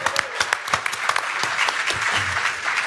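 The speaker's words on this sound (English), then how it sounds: "Give him a round of applause" Audience applause right after a speaker at a tech marketing talk asks the room to give a colleague a round of applause: dense clapping from a crowd, steady for about three seconds, with no voices over it.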